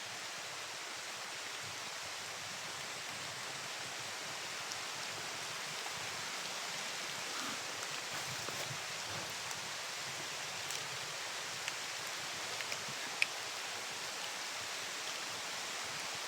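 Heavy rain falls outdoors as a dense, unbroken hiss, steady and even throughout with a few faint taps.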